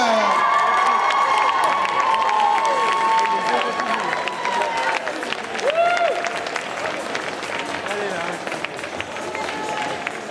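An audience at a Sunday costume contest at the Geek Legends convention in Chalon-sur-Saône applauds and cheers a winner. The sound is a dense, steady wash of clapping and crowd noise that lasts throughout, with voices calling out over it.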